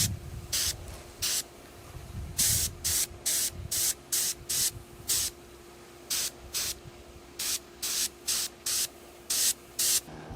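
Spray gun applying Cerakote to Ford Super Duty parts, a series of short hissing bursts, about twenty pulls of the trigger in irregular rhythm, each sharp and close, with a faint steady hum underneath.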